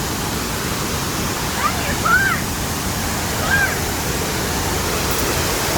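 Loud, constant rushing of a fast-moving flooded river in Transylvania fills the scene, a dense roar with a couple of faint high squeaks over it.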